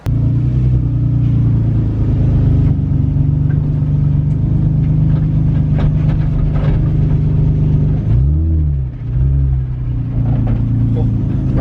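A car fitted with a newly installed GKTech steering angle kit drives and backs up, its engine a steady low rumble throughout with a short dip and swell of revs toward the end.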